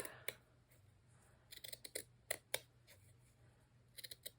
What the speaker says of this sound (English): Let's cut this in half, because I'm not sure about the sandwiching part. So let's just cut it.